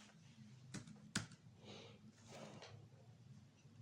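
Typing on a computer keyboard while entering an Excel formula, a few sharp keystrokes with one loud clack near the middle, then softer scattered taps over a faint hum.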